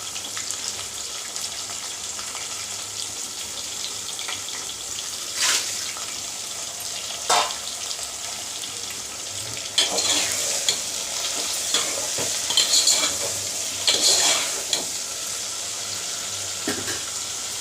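Vegetables tumble into a pot of sambar and are stirred and fried, with a steady sizzle and scraping stir strokes. Louder clatters of added pieces break in around the middle of the stretch. No one talks.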